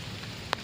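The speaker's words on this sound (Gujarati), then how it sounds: "છોકરા વાહ આવ્યા જો વરસાદ પડે જો" Light rain drizzles onto a wet rural road beside a farm field, a soft steady patter with one sharp, close drop striking near the end.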